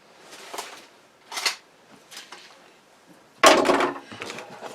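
Scissors snip through a narrow decorative paper strip for a slimline shaker card, giving a few short, close, crisp cuts spaced apart with one sharper, louder snip near the end.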